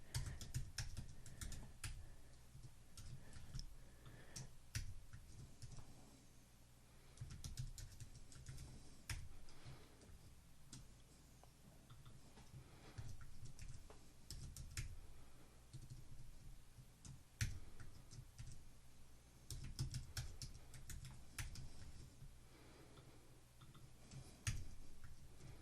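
A password is typed on a computer keyboard, a steady run of soft, close key clicks with short pauses between bursts.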